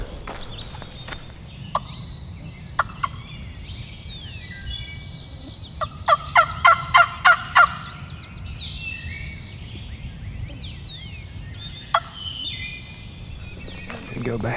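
Wild turkey gobbler in woods beside a field, gobbling with a rapid rattling burst at moderate distance, plus a few sharp single calls and clucks over a quiet outdoor background.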